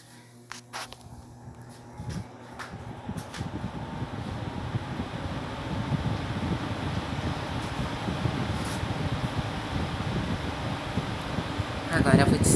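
An electric fan runs at its second speed setting, a steady low whooshing hum of moving air that builds after some clicks and handling sounds and continues close and even, with a few sharp knocks near the end.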